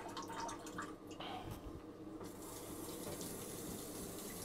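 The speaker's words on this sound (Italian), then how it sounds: "Vado qui su bidet" Water spraying steadily from a Japanese high-tech toilet bidet nozzle in a bathroom, a continuous hissing gush that runs for the whole stretch without speech.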